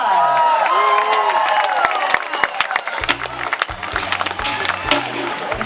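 A luau audience on a Hawaii beach in Kona claps and cheers loudly, then the applause thins into scattered claps as speech and thumps come in partway through.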